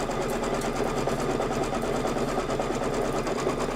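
An embroidery machine stitches a tack-down line on a quilted table topper, a continuous fast rapid-fire needle buzz running steadily and close without pause.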